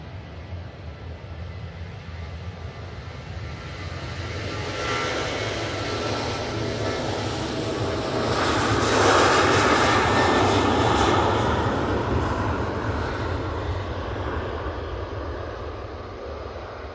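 Airliner jet engines on the takeoff roll at Manchester Airport, a loud, rushing roar that swells to a peak around the middle and then slowly eases while staying strong, heard alone.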